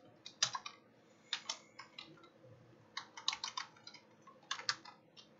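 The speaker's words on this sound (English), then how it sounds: "type in the password." Keystrokes on a computer keyboard while a password is entered, arriving in three short bursts of quick, close clicks separated by brief pauses over a quiet background.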